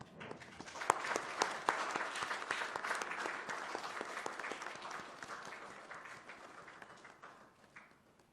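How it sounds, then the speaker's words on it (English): An audience at a memorial oration applauds a medal recipient with steady, moderately distant clapping from a sizeable crowd, sustained for several seconds before gradually thinning out. "Ladies and gentlemen, please give a big applause to Dr."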